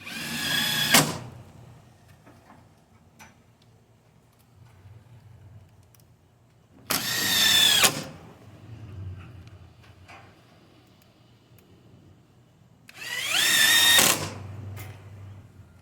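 A power drill drives screws into the supports of a Thor bagger in three separate bursts of about a second each. Each burst has a rising, whining motor pitch, with quiet pauses between them.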